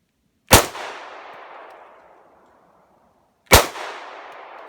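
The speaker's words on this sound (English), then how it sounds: "You watch this one-handed shooting." Two pistol shots fired one-handed, each a sharp, loud crack followed by a long fading echo, about three seconds apart.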